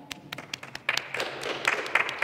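Sparse, uneven clapping from a small audience at a jazz Christmas concert, individual claps close and distinct at first, then thickening into light applause.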